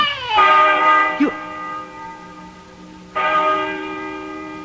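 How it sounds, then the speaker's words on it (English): A bell rings inside an old barn, sounding two rich, resonant strikes a few seconds apart, each with a long ringing decay. A faint, brief cry-like sound comes between them. "Listen to that bell."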